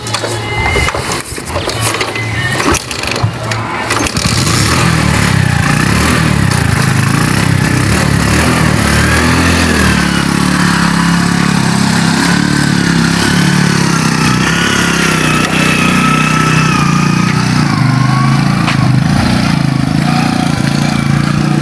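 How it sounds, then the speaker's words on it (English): A motorcycle engine runs steadily and loudly, close by, through the whole stretch, with a brief rougher burst at the start before settling into a continuous drone on a rural family property. "this is my motorcycle, and I go out."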